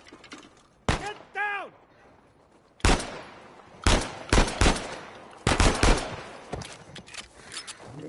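Enemies fire guns in Uncharted 4, with sharp, loud bursts of gunfire and short rapid volleys separated by quieter gaps, while a voice briefly speaks between the shots.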